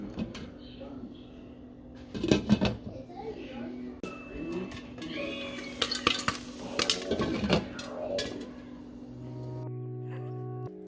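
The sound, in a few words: pots and utensils clattering while making popcorn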